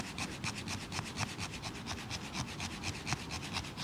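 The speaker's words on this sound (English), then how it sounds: "we're going to get the fat wood here, and we're going to give it a bit of a scrape" A metal scraper rasps along a stick of fatwood to raise tinder, giving a steady run of short, close, dry scraping strokes over low outdoor background noise, with no talking.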